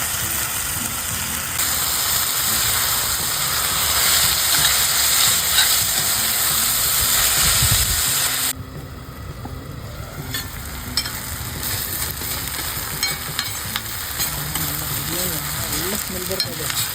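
Tomatoes frying with ginger garlic paste in a pan for an egg curry, a steady close sizzle and hiss with stirring scrapes, briefly quieter midway before the frying resumes.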